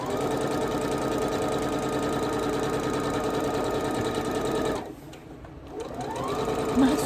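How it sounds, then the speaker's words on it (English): A sewing machine stitching quilt binding strips together, a loud, steady mechanical whir that cuts out briefly near the end before starting up again. "I'll show you how I sew my binding strips together."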